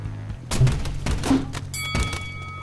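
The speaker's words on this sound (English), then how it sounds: "I have a gun that shoots grenades." Grenade-launching gun firing in the Rec Room VR game, two or three dull, hollow thunks in quick succession over background game music.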